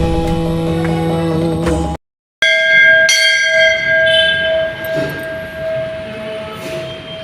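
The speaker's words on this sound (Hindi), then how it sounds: "जब घंटी बजाओ तो वो बहुत देर तक गूंजता है।" A temple bell struck in a Jagannath shrine rings out loud and close, its bright metallic tone sustaining and echoing for several seconds, with a second strike after a brief gap.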